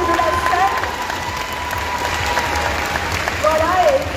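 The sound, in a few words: audience applauding cosplayer leaving the stage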